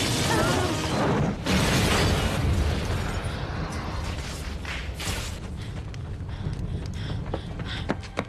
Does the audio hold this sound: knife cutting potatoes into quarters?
no